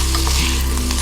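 Corn kernels and baby corn stir-frying in a pan with a little water, a brief steady sizzle with soft stirring movement, no voices.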